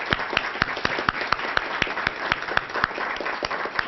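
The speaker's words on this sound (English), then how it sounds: "I want us to give them a round of applause because they're here" An audience applauds the symphony orchestra's musicians with steady, evenly spaced claps, fairly close and crisp, running continuously without talk.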